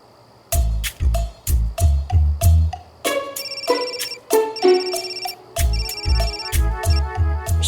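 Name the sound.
phone ringtone from repeated calls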